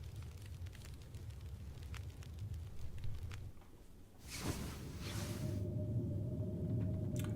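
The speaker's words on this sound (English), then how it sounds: "now we can hear a storm outside" A storm blowing outside a shelter in the survival game The Long Dark, a steady low rushing roar of wind that swells into a louder, fuller howl partway through and holds there.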